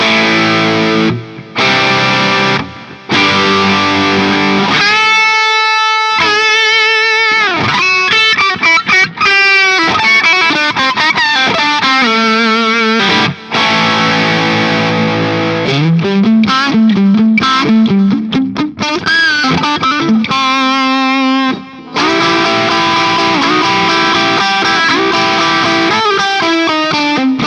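An electric guitar runs through a TC Electronic Dark Matter distortion pedal with the gain near three o'clock, playing loud, saturated chords and single-note lines with short pauses between phrases.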